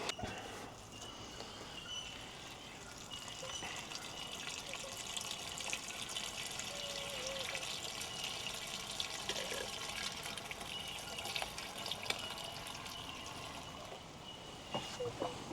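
Water trickles and splashes steadily as it is poured into the radiator of a 1973 Volvo, a continuous liquid stream with faint clinks and some background activity.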